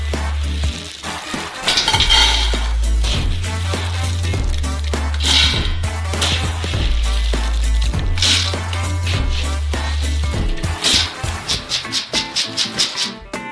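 Batches of roasted peanuts tipped into a cooking pot, a loud continuous clatter and rattle of nuts against metal with scraping, stirring and a low mechanical hum underneath.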